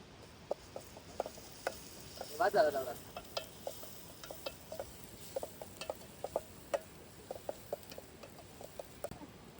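Masala paste of coconut, coriander and garlic sizzles in a pan of prawn curry cooked outdoors by a river, with a steady frying hiss and repeated sharp spoon taps and scrapes from stirring, a louder burst near the start.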